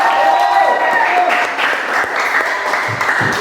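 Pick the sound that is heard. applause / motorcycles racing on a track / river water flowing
applause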